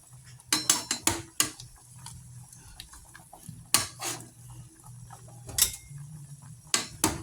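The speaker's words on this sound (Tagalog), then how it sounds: "Pisahin na natin yung kamatis." Four tomatoes being crushed with a utensil in a pot of sinigang with fish head, producing scattered clinks and taps against the pot in irregular clusters over a low, steady background hum.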